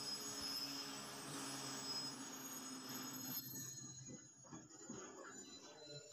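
A slow-moving passenger train rolls past with a faint, steady rumble of wheels and a thin metallic squeal that fades into quieter rattling toward the end.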